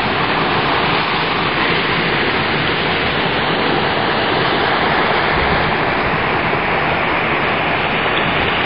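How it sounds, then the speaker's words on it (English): A small waterfall of boiling water at a hot spring near Rotorua, New Zealand, gives a steady, loud, unbroken rush of falling water that stays even throughout, with no voices. "Somewhere in there, there's a little waterfall of boiling water."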